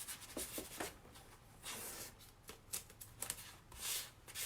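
A sticky Chalk Couture stencil is rubbed against fabric in short, soft, brushy strokes, an irregular series of quiet scuffing swipes with brief pauses between them, close up and faint.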